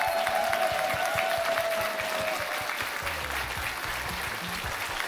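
Sustained audience applause at a stage event in a community cultural centre, many hands clapping in an even, dense patter from start to finish.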